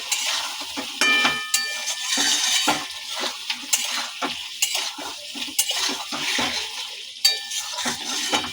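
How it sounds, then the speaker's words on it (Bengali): Green banana koftas stirred in a pan, a spoon scraping and knocking against metal in a quick irregular rhythm over a light sizzle, close and fairly loud. "একটু নেড়ে নেব।"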